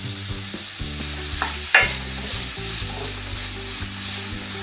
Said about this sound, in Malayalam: ഇതിലേക്ക് കുറച്ച് ഉപ്പും കൂടെ ചേർത്തിട്ട് നമുക്ക് വഴറ്റാമേ